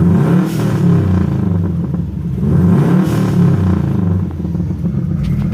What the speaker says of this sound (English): you can hear a little bit of the exhaust or the turbo whistle